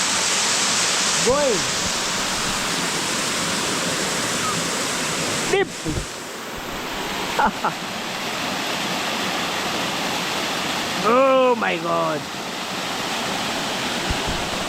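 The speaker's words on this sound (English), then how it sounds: "This is a beautiful waterfall that we have in our village here, guys." A village waterfall pours over slippery stones in a constant, loud, close rush of white water, with a man briefly exclaiming over the roar a few times.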